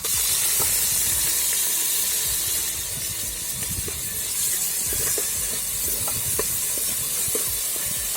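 Tomatoes frying in a pan while being stirred, a constant loud sizzle and hiss with scattered scraping and tapping of the spoon against the pan throughout.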